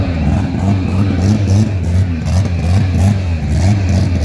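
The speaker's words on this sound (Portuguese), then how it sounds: "Piloto Ellison na Coca, um Chevette Smurf aqui na pista da direita" Chevette Smurf race car prepared for drag racing at the Veloparque track, its engine revving loud and close in repeated throaty pulses with a rough, clattering mid-range growl.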